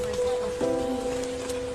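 Rain patters steadily on a surface, with a low, sustained tone humming beneath the downpour.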